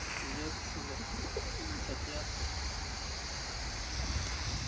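Low, throaty pigeon coos repeat close by at a rooftop loft where a fancier's released birds are returning, set against a steady rush of wind noise on the microphone.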